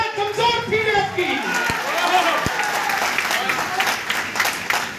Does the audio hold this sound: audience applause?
yes